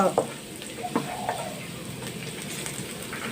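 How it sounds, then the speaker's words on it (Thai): Pumpkin shoots and egg are stir-fried in pork fat in a hot pan, with a steady close sizzle and a few quick scraping stirs near the start. "จะคั่วใส่ไข่นะคะ"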